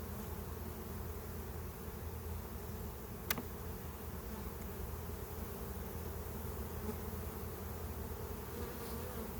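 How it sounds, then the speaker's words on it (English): A dense, continuous buzz of many honeybees hums close by at a hive of a ground swarm, steady and droning with a brief click partway through. "There are a lot of bees in this hive for sure."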